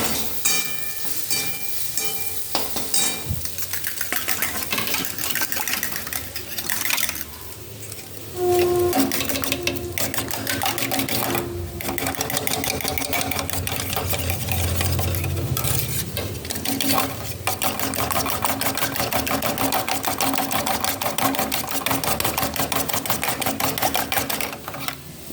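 Eggs cracked and whisked with salt and black pepper in a bowl for a breakfast dish, a steady rapid clatter of utensil on the bowl running continuously for about twenty-five seconds, close and fairly loud.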